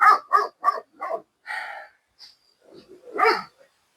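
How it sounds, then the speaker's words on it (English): Dog barking outdoors beside stock tanks, a quick run of four sharp barks followed by a longer bark and a few softer yips and a final bark, close and clear. "This is why he's barking"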